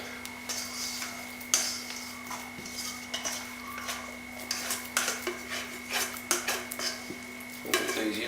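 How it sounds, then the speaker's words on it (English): A wet plastic scraper drags around sticky sourdough bread dough in a bowl, giving soft, repeated scraping and slapping strokes at close range, with light clinks and no talking. "I'm just going to wet that scraper and scrape that around."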